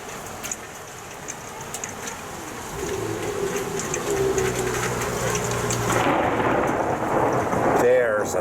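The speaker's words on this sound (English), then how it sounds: "There's a thunder crack." Thunder rumbles and cracks through steady rain during a thunderstorm, building from a low roll to a louder, sustained peal near the end.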